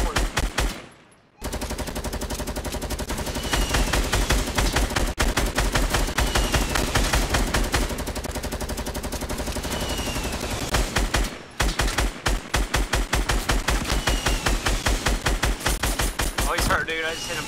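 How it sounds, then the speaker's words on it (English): Sustained automatic gunfire in the Fortnite video game, long rapid bursts firing continuously at a steady loud level, with short breaks and team voices talking over the shooting. "Start shooting down the fucking trees, dude. Shoot everything down."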